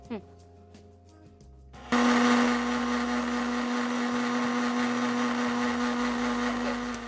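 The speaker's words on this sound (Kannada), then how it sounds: "ಈಗ ನಾನು ಇದು ಮಿಕ್ಸಿ ಮಾಡ್ಕೊಂಡ್ಬರ್ತೀನಿ" A kitchen mixer grinder grinding spices starts abruptly after a quiet moment and whirs loudly and steadily, a high motor whine that fills the rest of the clip.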